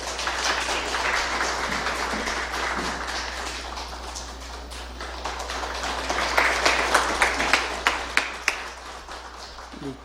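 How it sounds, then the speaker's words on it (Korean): Church congregation clapping during a service, a sustained patter of many hands over a low hum, swelling with a few louder distinct claps near the end. "우리 박수하겠습니다"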